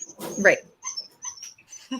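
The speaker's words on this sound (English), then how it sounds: "And there we go with crying puppy." A crying puppy gives short whimpers and yips in several brief bursts, fairly close and moderately loud, with quiet gaps between them.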